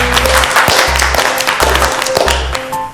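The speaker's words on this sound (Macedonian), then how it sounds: "Гордана Трпевска, голем аплауз ве молам." A studio audience at a cooking reality show claps enthusiastically, a dense patter of hand claps over a thumping, rhythmic music beat that pulses in steady bursts.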